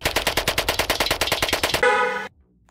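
Rapid automatic fire from twin Uzis in the mobile game War and Order, a fast, even burst of around fifteen close, loud shots, then a brief metallic reload-like tail before silence.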